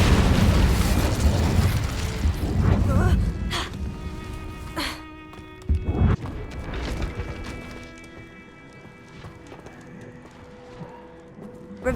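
An Incendio fire spell is cast in a Hogwarts wizarding video game, with loud roaring, whooshing bursts of flame followed by sharp pops and lingering ringing tones that fade away.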